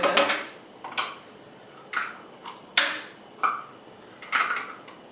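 A spoon scraping and clinking against a pot while sour cream is stirred into beef stroganoff, a series of about seven distinct metallic taps at a steady, unhurried rhythm, close and clear with no talking.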